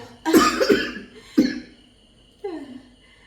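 Two or three sharp coughs close by, followed by a short throaty vocal sound after a pause.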